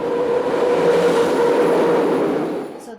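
A train rolls past on the tracks, picked up from a moderate distance back from the rails: a steady, broad rumble with faint rhythmic wheel clatter holds evenly for the whole stretch before easing off at the end.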